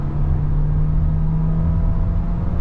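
A 2023 VW Taos with a turbocharged engine accelerates hard, a steady low engine drone and whir heard from inside the cabin, constant and moderately loud, with no voices.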